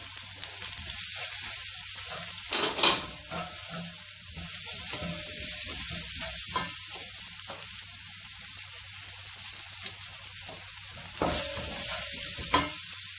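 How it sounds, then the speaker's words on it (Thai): Garlic and chili stir-fried in a pan, a steady close sizzle with scraping spatula strokes and a few sharper clatters against the pan, no voices. "คั่วกระเทียมไปพอเหลืองนะคะ ตามด้วยนี่เลยค่ะพริก"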